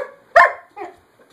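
A dog gives one sharp, close bark followed by a softer second yelp, then quiet.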